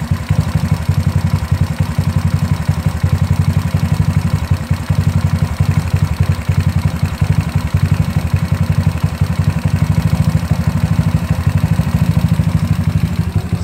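A GY6 scooter engine fitted with a 30mm carburetor runs close by, a loud, continuous, even idle with a clattering mechanical rumble and no talk.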